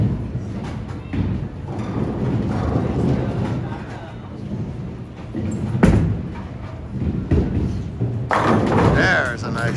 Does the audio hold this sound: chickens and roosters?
no